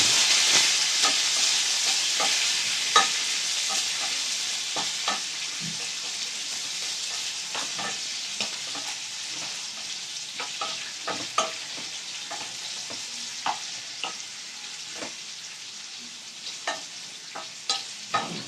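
Chopped onion frying with bay leaf and whole spices in a pan, a steady soft sizzle and hiss broken by frequent clicks and scrapes of stirring, fairly quiet and close, with no talking.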